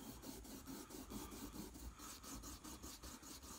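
Green stropping compound rubbed onto a homemade stropping block, a steady dry rasping scrape repeating in quick back-and-forth strokes, close and fairly quiet with no talk.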